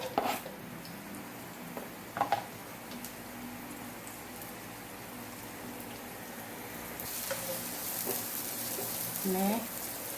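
Onions sautéing in a pan for Japanese-style beef teriyaki: a quiet, steady sizzle, with a few utensil clinks and stirring noises near the start and end.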